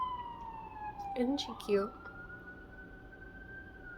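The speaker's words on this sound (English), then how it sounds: "the sirens agree" A police siren wails from outside, its steady tone gliding slowly down and then back up at moderate distance, while someone talks briefly over it nearby.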